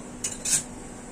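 Metal utensils and a wok clatter against each other on a kitchen stove, two quick sharp clinks in close succession, near and crisp with no voices.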